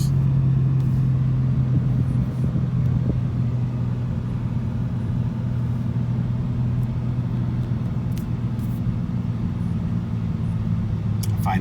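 Steady engine and road rumble from a 2020 Toyota Supra cruising at highway speed on cruise control, a continuous droning hum with tire noise throughout the cabin.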